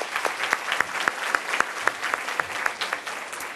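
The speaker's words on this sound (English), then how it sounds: "Please join me again in applauding their achievements." Audience applause at a Women's History Month luncheon, a steady roomful of clapping with sharp individual claps standing out, moderately loud and continuous throughout.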